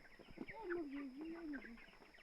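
Chickens of three different sizes at a poultry farm give a close, wavering cluck that rises and falls for about a second over a soft barnyard background.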